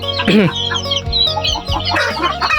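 Several chickens cluck and squawk up close, one louder call rising above a steady busy flock chatter.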